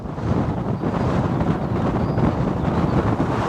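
Steady wind roars and buffets a microphone on a remote UK golf course, a continuous loud rushing with no pauses and no voices.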